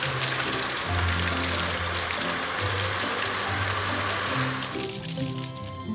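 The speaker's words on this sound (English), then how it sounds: "The water truck is washing off the suds." A cartoon water truck sprays water over a soapy green car to rinse off the suds, a steady broad hiss running under light background music before it fades out near the end.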